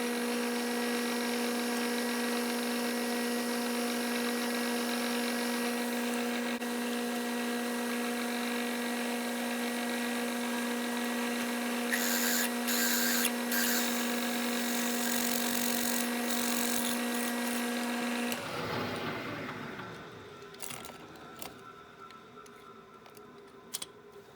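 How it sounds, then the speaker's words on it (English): A drill boring a hole in a metal part for a lock in a machine shop: a loud, steady motor whine with a tonal hum for most of the run, then it winds down and goes quiet near the end. "Let's drill a hole."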